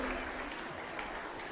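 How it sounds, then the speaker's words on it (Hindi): Audience applause welcoming a guest at a Jain religious question-and-answer gathering, a steady wash of clapping held at a moderate level for the short stretch, with a faint voice beneath. "तालियों से अभिनंदन करें"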